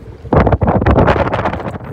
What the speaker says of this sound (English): the microphone just can't pick up the voice over these gusts of wind